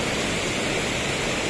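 A fast-flowing flooded river in Narciso, Quezon during heavy rain, heard as a loud, dense and continuous rushing roar of water, close by, with no voices.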